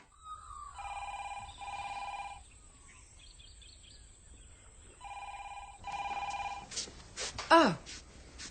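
A telephone rings with two double-ring bursts separated by a pause, clear and moderately loud in a quiet room, followed by brief voices and a sharp rising sound at the end.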